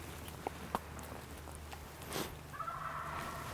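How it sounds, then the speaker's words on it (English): Faint, distant wild turkey gobbles rise in a short burst near the end over a quiet outdoor background, with a couple of soft clicks earlier. "I hear turkeys. Are you hearing turkeys?"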